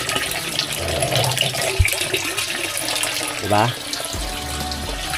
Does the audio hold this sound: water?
yes